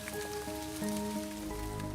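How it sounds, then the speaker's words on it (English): Rain falls at an outdoor archaeological dig beside an old mill, a steady patter on surfaces mixed with faint tonal background sounds, no voices. "it's started to rain."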